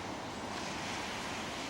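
Floodwater from a rain-swollen creek in Lobo Canyon pours over a crossing, a steady, loud, close rushing wash that never lets up and has no voices over it.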